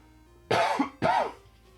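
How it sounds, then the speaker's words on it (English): Two short, harsh coughs close to the mic, about half a second apart, each with a rough breathy tail, alone with no talk. "I need to cough."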